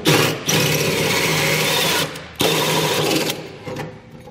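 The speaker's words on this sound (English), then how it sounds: "continue to run our hole saw through and get that little section cut out as well" A hole saw on a drill cuts through a metal brace while installing a Pollak fifth wheel and gooseneck wiring harness on a 2021 truck, giving a loud, steady whirring grind in two long bursts separated by a brief pause.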